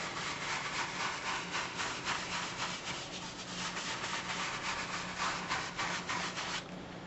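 A brush blending oil paint for a sky in circular motions makes a soft, steady, close rubbing sound with rhythmic strokes throughout.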